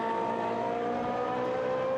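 Race cars in Gran Turismo Sport at the Algarve circuit droning along behind a safety car, a steady loud engine tone with layered harmonic whine holding evenly throughout, no voices.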